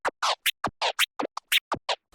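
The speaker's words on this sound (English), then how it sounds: "we're going to now incorporate the crossfader to do the 2 clicks on top of the tears" A DJ does rapid tear scratches on a turntable, chopped by crossfader clicks into a quick series of about a dozen short, sharp bursts, close and alone.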